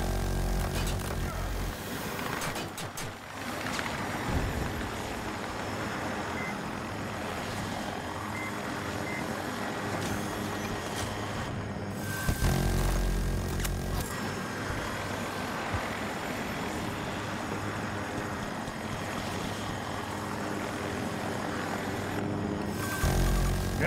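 Helicopter in Battlefield 2042: a steady droning rotor and engine rumble that persists throughout, with game battle noise layered on top and a few brief dips and surges.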